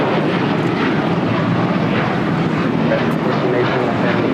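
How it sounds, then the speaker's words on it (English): Loud, close jet roar of a Delta Airlines Boeing 737-800 taking off from LAX for Cancun, a dense steady rumble with rising engine tone throughout, with some voices mixed in. "This is Delta Airlines 615 taking off to Cancun on a 737-800"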